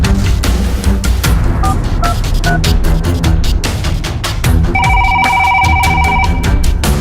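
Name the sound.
telephone ringing in a video game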